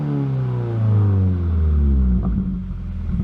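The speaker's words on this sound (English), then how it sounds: "Number three on my list is the sound that the car makes." A 2015 Subaru WRX engine with equal length headers revs and settles, a strong low rumble with harmonics climbing, holding and easing off, close and loud with no talk over it.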